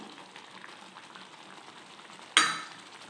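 Prawn malai curry cooking on low heat in a pan, a faint steady sizzle and gentle bubbling, then a sudden louder burst of frying near the end that fades away.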